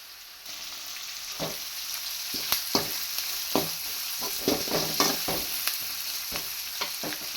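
Onion, garlic and curry leaves fry in oil with mustard seeds and urad dal, a constant sizzle broken by repeated sharp scraping and stirring strokes in the pan, moderately close.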